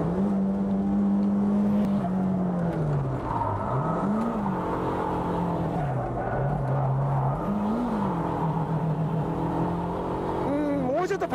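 A Toyota HiAce van drifting, its engine revving and droning with rising and falling pitch as the throttle is worked, loud and close throughout, with a sharp rev spike at the end.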